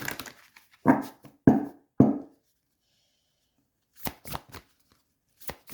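Oracle cards are shuffled and drawn close by, making several short, crisp riffling bursts in quick succession, then scattered light card snaps after a silent pause, with no talking.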